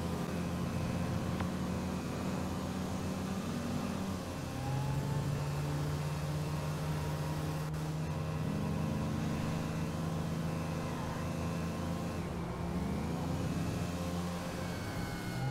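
A car drives during a PC game benchmark, with a steady, quiet engine drone and whine that shift in pitch as it speeds up and slows, continuous throughout.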